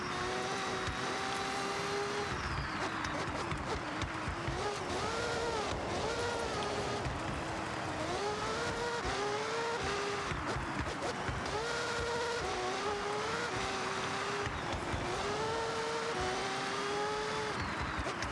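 A 2008 Mazda Furai race car in Forza Horizon 6 screams loudly throughout, its engine pitch rising and falling repeatedly through gear changes and off-road driving, with no talk over it.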